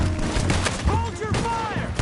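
Gunfire in the Western video game Red Dead Redemption 2 during a shootout: a dense, ragged fusillade of shots close by, mixed with shouting voices and whistling tones over a busy battle bed.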